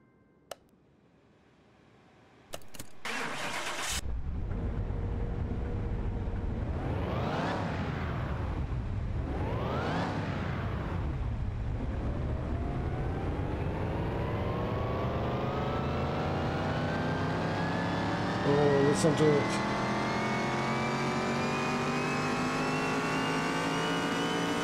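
A supercharged car engine in Car Mechanic Simulator 2021 revs up hard with a rising supercharger whine, two big surges early on, then a long sustained climb in pitch, loud and close.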